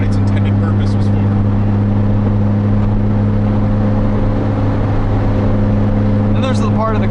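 A 2007 Lotus Exige S 220 engine holds a loud, sustained high rev from inside the cabin, a steady droning tone throughout while a voice talks over it.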